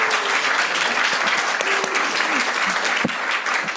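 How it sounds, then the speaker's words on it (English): Dense, loud applause from an audience at a talk on consciousness and creativity, honoring the artist Lia Chavez, sustained throughout with a few sharper individual claps standing out. "Let's give one more big round of applause for Leah, the artist."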